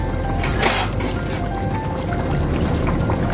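Fish going into a pot of boiling water with potatoes makes a continuous close bubbling and rolling boil, with a brief splash near the start.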